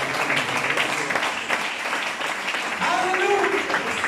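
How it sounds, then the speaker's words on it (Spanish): A church congregation breaks into applause, a dense, steady wash of clapping mixed with scattered voices and cheers that swells slightly toward the end. "Un aplauso al Señor."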